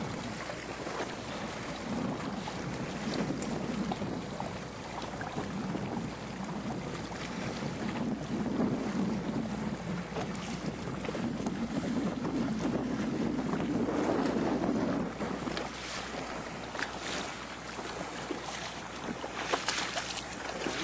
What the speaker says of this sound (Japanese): いい風になってきました。